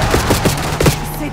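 Gunfire in the Call of Duty Black Ops 6 video game, several sharp shots at uneven intervals over a steady low hum, loud and fairly close, with speech-like game sounds mixed in.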